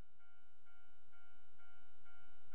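A train runs in the Train CREW Japanese railway simulator game, giving a steady rolling hum with a soft rhythmic clack and faint ringing tones at regular intervals, even and moderately quiet, with no talking.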